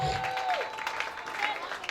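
A church congregation claps steadily in praise while a high, sustained ululating cry rises above the applause, moderately loud and continuous throughout.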